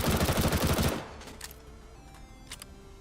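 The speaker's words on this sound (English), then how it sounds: "750 rounds per minute goes a lot faster than you'd think" An MP7 submachine gun fires in CS:GO: a loud, rapid full-auto burst for about a second, then stops, with faint clicks and handling sounds afterward.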